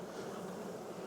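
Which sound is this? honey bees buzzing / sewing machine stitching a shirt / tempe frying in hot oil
honey bees buzzing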